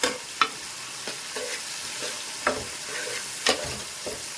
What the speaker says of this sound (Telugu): టమోటాలు కూడా బాగా వేగిపోవాలి ఆయిల్లోనే